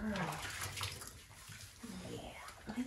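Warm water runs steadily into a tub for a Boston Terrier's bath, a continuous close splashing rush under a person talking gently.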